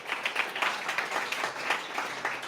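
Faint, distant applause from the audience at a startup pitch competition, a soft, continuous ripple of clapping hands that swells slightly and stays in the background without voices.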